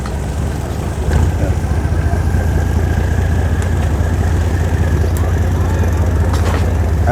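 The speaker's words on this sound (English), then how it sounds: "the ferry that we're on is the Koh Rong Sonleom" A Koh Rong Sonleom passenger ferry engine in Cambodia drones steadily with a deep, loud low rumble throughout, and a voice speaks briefly over it.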